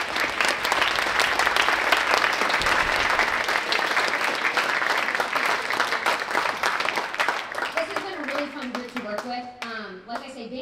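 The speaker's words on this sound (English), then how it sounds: "Can we give your parents a round of applause?" Audience at a middle school honor band concert applauds the parents, a loud, sustained crowd clapping that fills the room for about eight seconds before thinning out as voices and musical tones emerge near the end.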